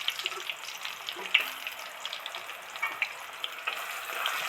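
Chopped onions frying in a pan give a steady close sizzle and crackle throughout, with occasional light stirring clicks and no talking.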